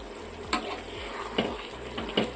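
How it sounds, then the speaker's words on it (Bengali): Spoon scraping and stirring chicken kosha, a Bengali spiced chicken curry, in a pan, with three or four distinct scrapes over a steady low sizzle, close and clear with no talking. "মাংসটা একটু নাড়লাম।"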